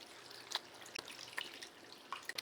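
Water poured into a pot of Trinidad-style chicken feet souse, heard as soft, scattered drips and small splashes at close range with no talking.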